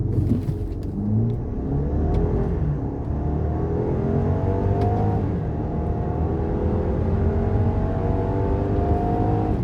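A 2018 Range Rover Sport 2.0 Si4 petrol accelerates hard, its engine climbing in pitch through successive gear changes with a sustained close, loud rising drone over road and wind noise; no talking.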